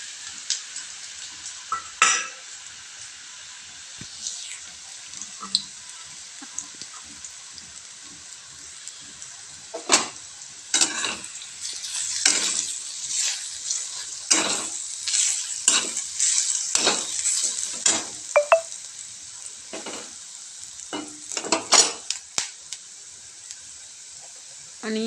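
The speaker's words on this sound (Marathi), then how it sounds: "ते तेलामध्ये व्यवस्थित छान मिक्स होईल असं परतून घ्यायचे आपल्याला ते." Ground peas stir-fried in hot oil for aloo matar paratha filling, with a continuous soft sizzle broken by repeated scraping and stirring strokes of a utensil in the pan, close up and fairly quiet.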